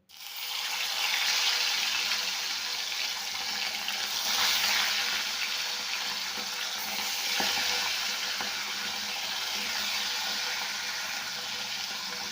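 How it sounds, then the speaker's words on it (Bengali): Fish frying in hot white oil in a wok, a steady, dense sizzle and crackle that holds close and fairly loud throughout with no one speaking. "এটা কড়াইতে সাদা তেল দিয়েছি, তেলটা আমার গরম হয়ে গেছে। এবারে মাছগুলো ভেজে নেব।"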